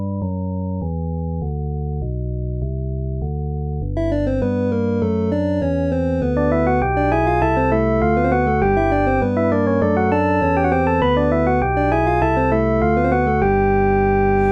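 Bach canon played on a bright synthesized keyboard timbre, a lone slow melodic line at first, then joined by an added bass line and busier interweaving voices in steady rhythm.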